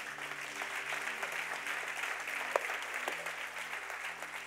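A church congregation claps at a family conference, a steady, somewhat distant wash of hands with a low hum underneath and one sharp louder clap partway through.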